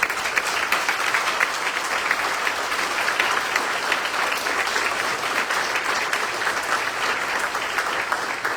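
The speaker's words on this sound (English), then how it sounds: "I would ask that we all give a round of applause to our PA school staff." Sustained, dense applause from a large audience at a Marine Corps retirement ceremony, loud and steady throughout with no voices rising above it.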